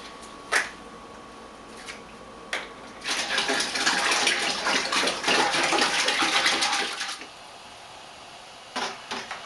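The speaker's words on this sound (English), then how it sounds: "So we finished putting in the water." Water pours steadily into a metal pot for a few seconds, framed by scattered clanks and knocks before and after.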